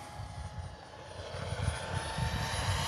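An Arrows Avanti S 50mm EDF model jet flying on a 4S battery gives a steady, rushing ducted-fan roar that holds continuously and swells slightly toward the end, with no talking.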